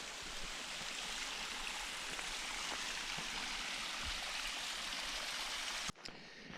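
A small waterfall beside the hiking trail to Packwood Lake, a steady close rush of splashing water that stops abruptly near the end.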